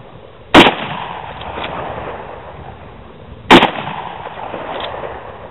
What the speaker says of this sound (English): let's shoot these last 3 cans as quickly as I can